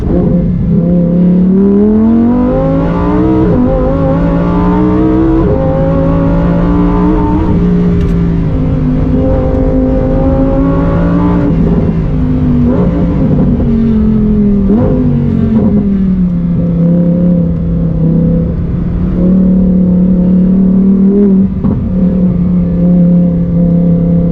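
Lamborghini naturally aspirated V10 accelerating hard along a closed road, loud and close, with the engine note rising through repeated gear pulls and shifts and sustaining at high revs throughout.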